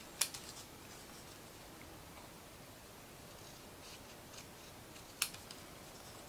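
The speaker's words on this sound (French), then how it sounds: "vous allez prendre votre ciseau" Scissors snip through paper while a triangle template is cut for a Christmas bauble made from scrap paper, with two crisp, close cuts separated by a long pause over faint background hiss.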